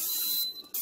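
Cooking spray hisses inside a pot set on saute, a short close burst of spray before a brief drop-out.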